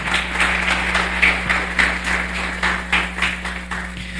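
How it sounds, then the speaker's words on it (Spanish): A church congregation claps in applause for Jesus during a Spanish-language Christian sermon service, with dense, steady clapping from many hands filling the room under a low hum. "Le da un aplauso a Jesús en esta mañana"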